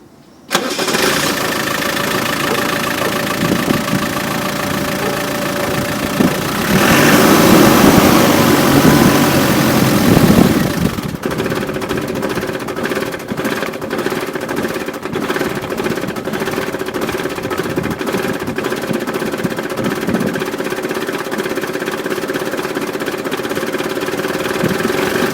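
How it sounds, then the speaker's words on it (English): A Land Rover Defender's engine cranks and catches on its first start after servicing, then settles into a steady, slightly rough idle that runs on alone. "Right, start the engine."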